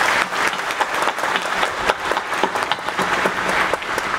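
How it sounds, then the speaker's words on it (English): A large audience at a theological college graduation ceremony applauds the graduating class, with dense, steady clapping filling the hall for the whole stretch and sharp individual claps standing out in the wash. "Let us all give them a round of applause."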